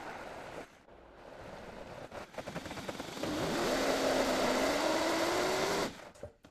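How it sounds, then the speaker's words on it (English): A blender whirs through cream for a dairy-free Black Forest dessert, starting with short pulses and then running steadily at a loud, even pitch for a few seconds before cutting off. "So we're going to blend this up now."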